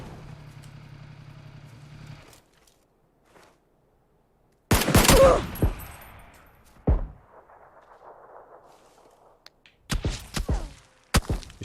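Enemy gunfire in PUBG: loud, sharp rifle shots crack in separate bursts with quiet gaps between, some volleys rapid and some single, alongside a brief vehicle-like hum.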